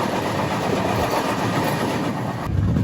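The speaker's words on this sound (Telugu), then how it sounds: "ఇప్పుడు వెళ్తుంది కదా ఈ ట్రైన్ ఏంటంటే ఖజురహో ఉదయ్పూర్ ఎక్స్ప్రెస్" The Khajuraho Udaipur Express rushes past on a rail line, a loud continuous roar with rapid clickety-clack of wheels, close and steady throughout.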